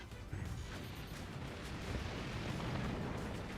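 A nuclear warhead detonates in the physics-based fort-building strategy game Forts, a deep, sustained rumbling blast with crackling debris that rolls on steadily at a loud, even level throughout.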